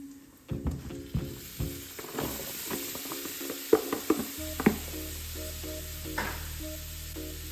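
Garlic cloves and pepper sizzling in a hot pan for a large batch of Nicaraguan arroz a la Valenciana, with a steady fry hiss and repeated sharp spoon knocks and scrapes against the pan.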